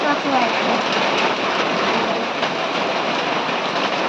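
Heavy, steady rain pours down close by in a dense, unbroken hiss that holds at the same strong level throughout, with no other clear sounds on top.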